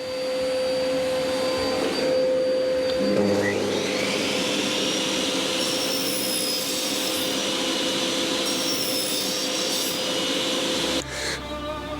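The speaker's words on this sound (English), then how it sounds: "let's turn the air on" A loud, steady rush of compressed air blows continuously for several seconds nearby, starting with a rising whine and cutting off abruptly near the end.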